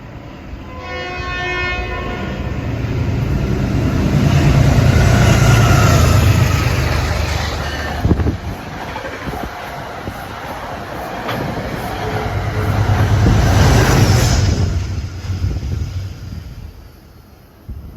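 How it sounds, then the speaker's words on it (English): Metro North locomotive 878 passing at Riverdale on its way to New York from Poughkeepsie, a long rolling rumble of wheels that swells twice, with a horn-like tone near the start and squeals near the middle. "That was 878 that went by going to New York from Poughkeepsie"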